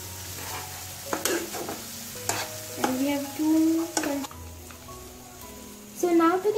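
Masala paste sizzles in a pan for a chicken bharta while a spoon stirs and scrapes, several distinct strokes over a steady fry, close up, with a few faint voice-like sounds between.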